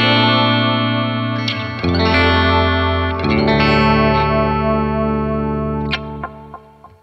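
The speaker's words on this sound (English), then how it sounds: "We'll start out with the Electroman, which is just a nice analog voice delay." An electric guitar runs through a SolidGold Electroman Mark II analog voice delay pedal, sustained chords with warm repeating echoes that swell and shift, ending in a few plucked notes as the tail decays. No one speaks.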